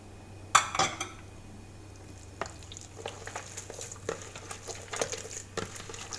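Ice cubes and egg white go into ground fish for fish balls. A sharp clatter of ice hits a bowl, then light scattered clinks and wet mixing noises follow, close and fairly quiet.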